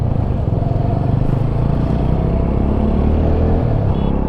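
A motorcycle engine rumbles steadily and loudly up close on an off-road track where tipper trucks also run, a dense continuous drone with no speech.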